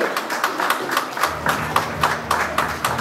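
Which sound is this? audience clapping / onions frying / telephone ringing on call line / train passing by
audience clapping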